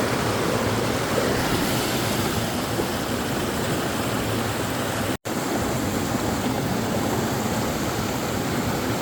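River flowing along an Appalachian Trail hiking spot, a steady full rushing of water that stays loud and close throughout, with one brief dropout near the middle and no voices.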